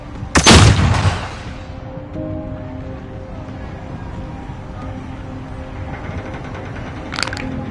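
A flashbang grenade goes off in a war video game with one loud sharp burst near the start that trails into a ringing hiss, then steady battle ambience and a brief crackle near the end.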